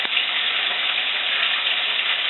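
Olive oil heating in a skillet, a loud, steady, dense sizzle holding unchanged from start to finish with no other sounds.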